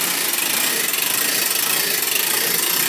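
A hand brake winch cranks a small wooden skiff up toward a garage ceiling on a cable and single pulley, giving a steady, close ratcheting whir with no talk.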